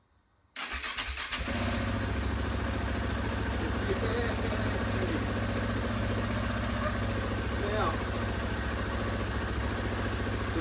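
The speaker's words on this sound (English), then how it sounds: "It's in neutral, let's try and kick it over." A KTM 690 Enduro R single-cylinder motorcycle, unstarted for months, is kicked over and catches, then settles into a steady, loud, close idle that carries on without a break.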